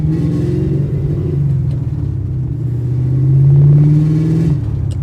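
The engine of a 1998 Ford Mustang Cobra accelerates while driving, a close, loud, low rumble that rises in pitch as it pulls, heard from inside the car with no talking.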